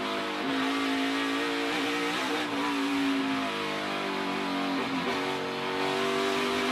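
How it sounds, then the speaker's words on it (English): A race car engine howls in second gear through the S-curves during Texas Grand Prix qualifying, loud and close, its pitch rising and dipping as the car shifts load through the bends, with no talking. "you're about to hear it again in second gear through these S's."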